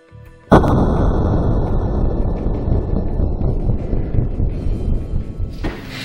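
A single loud .308 rifle shot fired through a JP Rifles compensator muzzle brake, a sharp blast followed by a long rumbling boom that rolls on for several seconds outdoors.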